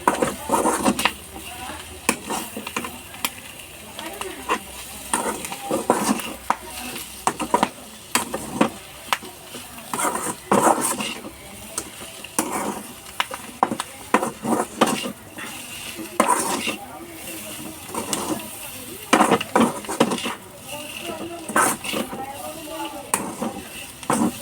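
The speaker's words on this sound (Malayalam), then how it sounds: "നല്ലപോലെ മിക്സ് ചെയ്ത് കൊടുക്കാം" Clam meat is stirred and mixed in a pan, with repeated scraping strokes of a utensil against the metal and a light sizzle underneath, steady and close throughout.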